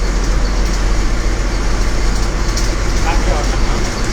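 Steady interior rumble of a moving Tenali–Guntur travels bus, with constant low engine drone and road noise throughout and a voice talking over it.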